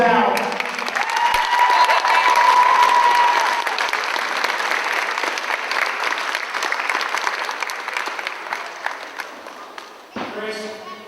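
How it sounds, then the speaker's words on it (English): Crowd at a wrestling cage match applauding and cheering in a loud, sustained roar that slowly fades, followed by a short burst of noise at the end. "Give that man a round of applause now."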